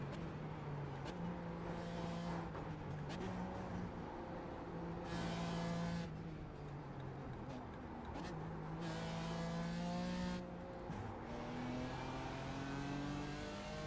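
A GT4 race car on a hot lap screams close and loud, its engine rising in pitch through each gear, dropping as it shifts down to second, then revving hard again in steady pulls.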